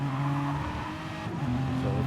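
A race car spins out in a racing video game at Fuji after a tire touches the AstroTurf on a corner exit. The engine drones and shifts pitch in a continuous, fairly loud wail.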